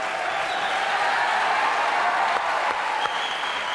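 Studio audience applauding on a French television variety show, a dense steady wash of clapping held at full strength throughout, close and loud with no break.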